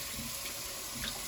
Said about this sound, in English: like you rinse it out after you empty it, like this